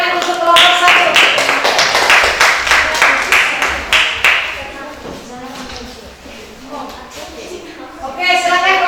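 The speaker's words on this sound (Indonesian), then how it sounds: "tepuk tangan untuk kelompok 1" Several seconds of brisk clapping from a small group of students in a classroom, loud at first and then thinning out, with some voices mixed in.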